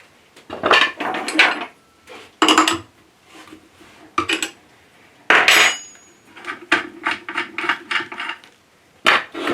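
Metal parts from a WG250 10-inch wet stone sharpening system are dropped into a tray, with several loud close clattering clinks and jangles separated by short pauses.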